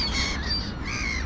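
Crows caw outdoors on a winter's day in a few harsh, ragged calls that follow one another at a moderate distance, clear over a soft background.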